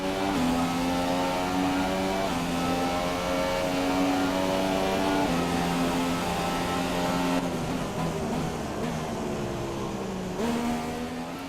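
Engine of an F1 car in the F1 2017 video game, entering the pit lane. A steady, loud, high-pitched whine holds throughout, and its pitch steps down and back up several times as the car slows.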